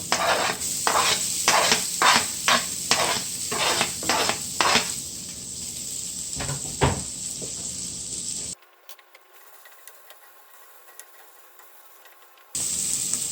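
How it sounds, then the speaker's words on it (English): Onion, garlic and curry powder frying in olive oil, stirred with repeated scraping strokes over a steady sizzle for about eight seconds, then a quieter stretch of faint sizzling before the stirring resumes. "So just burn the garlic with the curry powder a little. So now I just add the onion in with this."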